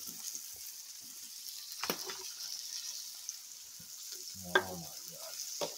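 Smash burgers frying on a Blackstone griddle give a faint, steady sizzle with occasional scraping and clinks of a spatula, heard alone without talk.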